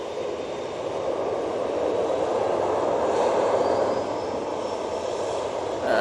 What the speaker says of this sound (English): Off to Skiathos we go with this TUI 737-800.